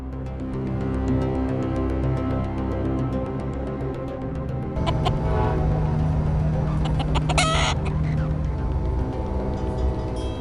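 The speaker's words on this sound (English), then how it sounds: "A chicken on the track, where did it come from?" A chicken on a train track clucks repeatedly in quick, close calls, joined midway by louder squawks and a sharp burst, against a steady low background hum.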